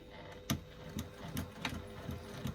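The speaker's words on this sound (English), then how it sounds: "I'm just going to stitch all the way around the top edge using a 3/8 of an inch seam allowance" A sewing machine stitches a bag's lining and exterior together around the top edge, giving a steady rhythmic series of mechanical needle thumps and clicks at close range with no talk.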